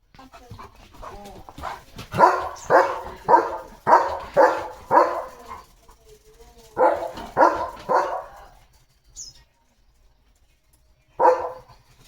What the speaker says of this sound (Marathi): नको भुंकूया इकडं